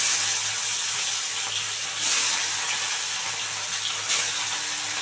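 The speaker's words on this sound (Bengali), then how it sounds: "তেল গরম হয়ে গেছে, এবার আমি মাছগুলো ছেড়ে দেবো" Big koi fish (climbing perch) dropped into hot oil in a home kitchen give a steady, broad sizzling hiss that runs on without pause, close and fairly loud, swelling briefly at two points.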